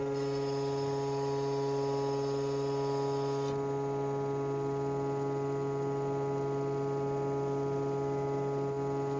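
A repaired Char-Lynn Eaton hydraulic motor runs on a test fixture under pressure, producing a steady, unchanging droning hum with strong tonal harmonics and no voices.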